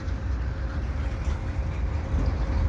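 A long CP eastbound mixed freight train, a general manifest with a block of oil cars, rolls past at Dorval in winter, giving a steady, loud, close rumble that holds evenly throughout.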